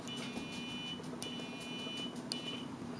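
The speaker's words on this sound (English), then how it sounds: "of course you hear the buzzer go off" A multimeter continuity tester's steady high electronic buzzer tone sounds over a low hum, with a few brief sharp clicks.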